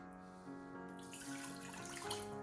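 Water pours from a cup into a Ninja Foodi cooker pot, a soft continuous splashing trickle that grows busier partway through, close and fairly quiet with no talking.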